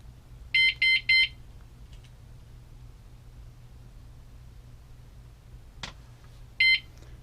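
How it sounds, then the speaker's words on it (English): E-bike alarm armed with a wireless key fob, sounding three quick loud electronic beeps, a short pause, then one final beep, over a low steady background hum. "The last beep means it's activated."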